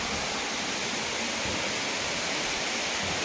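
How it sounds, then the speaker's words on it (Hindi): Water pours steadily out through the gates of Zulpewadi Dam, a constant broad roaring rush with no breaks and no talking. "इधर से भी नीचे से थोड़ा थोड़ा पानी आ रहा है"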